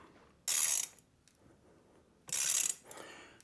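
An 8mm bolt ratcheted tight to press a crank arm onto the bottom bracket of an Ozark Trail Slalom FS.2 mountain bike, heard as two loud, close, rapid clicking ratchet bursts with a quiet pause between.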